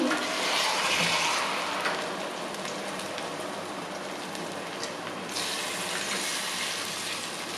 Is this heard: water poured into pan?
yes